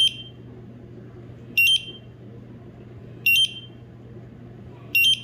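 A fire service gas meter sounds its low alarm: four sharp high beeps at a steady interval of about one and a half seconds, loud and close over a quiet hum.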